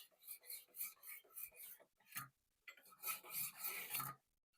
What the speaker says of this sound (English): So I'm gonna sharpen this one for you guys.